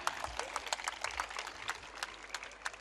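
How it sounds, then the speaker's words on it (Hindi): Parents at a school annual report function give dense, continuous applause. Many hands clap together at once, the sound moderately loud and sustained for the whole stretch with no speech over it. "जरा जोरदार तालियां दीजिएगा।"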